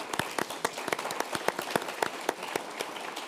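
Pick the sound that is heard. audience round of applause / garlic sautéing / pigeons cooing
audience round of applause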